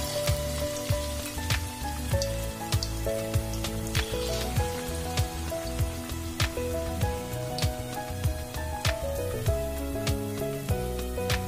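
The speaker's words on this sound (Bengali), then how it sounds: "তেল আমার গরম হয়ে গেছে। এবার আমি এর মধ্যে পকোড়াগুলো ছেড়ে দিই।" Bottle gourd pakoras frying in hot oil over a low-to-medium gas flame give a steady, dense crackling sizzle with scattered pops throughout, with music playing underneath.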